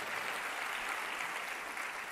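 A church congregation claps loudly during a Telugu Christian sermon, a dense, even burst of many hands applauding together that holds steady for the whole moment with no talk over it.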